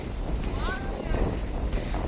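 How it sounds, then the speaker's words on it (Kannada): Strong hilltop wind at Ranipuram buffets a handheld phone, making a steady, rough low rumble that runs through the whole moment. "ಫೋನೇ ತಳ್ತದೆ ಗಾಳಿಗೆ, ಅಷ್ಟು ಗಾಳಿ ಉಂಟು."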